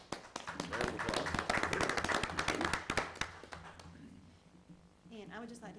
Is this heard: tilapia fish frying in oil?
no